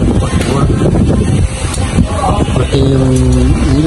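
Strong Typhoon Kristine wind roars continuously, buffeting the microphone in a loud, gusty, unbroken rush, with a voice briefly audible toward the end.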